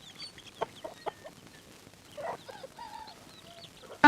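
A few soft, sparse clucks from chickens near a house, fairly faint and spaced out, ending with one sharp, louder squawk.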